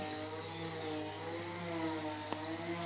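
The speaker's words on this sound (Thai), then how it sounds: "จิ้งหรีด" Crickets on a cricket farm, their eggs-laden females crowded together, keep up a dense, steady high chirping that never pauses, with a constant insect buzz filling the background.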